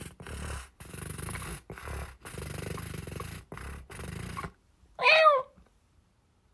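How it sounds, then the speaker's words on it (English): Cats make noise in the background indoors: several rough, breathy bursts, then a single clear, rising meow near the end, with no talking over them. "we got the cats as well in the background with little purrs"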